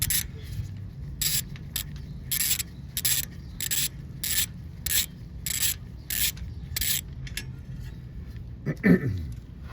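A ratchet loosens the frame bolt holding a motorcycle crash bar, a series of evenly spaced close rasping clicks in short bursts, ending with a brief clunk.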